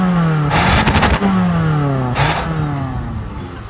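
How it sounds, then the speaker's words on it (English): A 2015 Chrysler 200's 4-cylinder engine revs up twice, pitch rising with each push, then settles back to a steady idle hum. "It's a very rev-happy engine."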